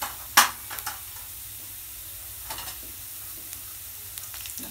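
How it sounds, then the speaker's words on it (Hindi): Turmeric and a pinch of red chili sizzle in hot oil in a pan, a soft steady frying hiss with one sharp spit near the start and a few light stirring scrapes, close and without speech. "सबसे पहले थोड़ी सी हल्दी, हरी मिर्च डली है इसलिए मैं लाल मिर्च बिल्कुल थोड़ी सी डालूंगी"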